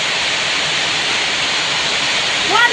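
Heavy monsoon rain pours down in a loud, dense, unbroken hiss, with a brief voice breaking in right at the end.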